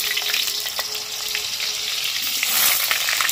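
New-season potatoes hiss and sizzle as they fry in hot oil in a home kitchen, a bright, continuous crackling that stays close and steady throughout, with no talking.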